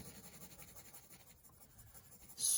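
Phoenixcolor colored pencil scratching steadily across paper, a soft continuous close-up rasp with small stroke-by-stroke pulses, easing slightly midway before a louder burst at the end.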